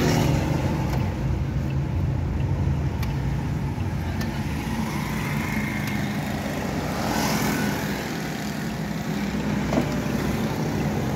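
Steady low rumble of a Toyota Aqua hybrid driving with continuous road and engine noise, heard from inside the vehicle at an even level throughout.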